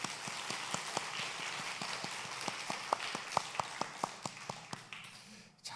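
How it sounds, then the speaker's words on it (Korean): A church congregation claps in scattered, uneven bursts that grow denser and then stop abruptly, sounding faint and somewhat distant in a room. "우리 모두에게 한번 감사의 박수 한번 하십시오."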